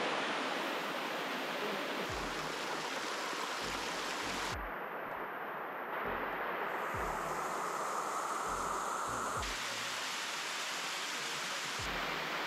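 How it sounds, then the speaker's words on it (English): Steady roar of a waterfall after rain, a broad constant rush of water heard close and loud, with a few faint low thumps and no talk. "I think we're getting closer because I hear water."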